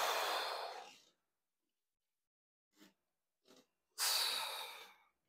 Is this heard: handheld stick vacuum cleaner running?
no